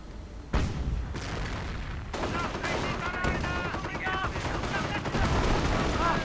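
Battle in a WWII strategy video game: after a brief lull, a sudden booming artillery hit opens a dense stretch of rattling gunfire, bursts and further blasts layered over one another, loud and continuous.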